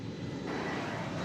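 An American Airlines jet departs Dallas Fort Worth airport for Sacramento, a brief steady engine roar heard from a distance, continuous and unbroken.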